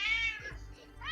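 A cartoon cat gives a meow, then a second rising meow follows after a short pause, both fairly clear and close with no other sound around them.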